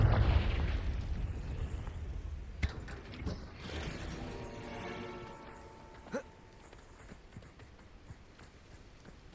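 A Confringo blasting spell explodes in the Hogwarts Legacy video game, with two sharp booming bursts standing out over a dense, rumbling layer of game ambience and effects.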